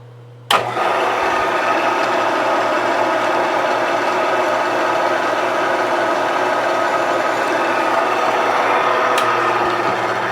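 A steady, loud motorized whir starts abruptly and runs continuously without pause, a power drill grinding into an RM250 motorcycle case.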